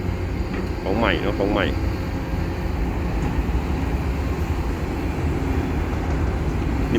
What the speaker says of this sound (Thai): โกบิโก้ลำนี้นี่เสียงนิ่มมากครับ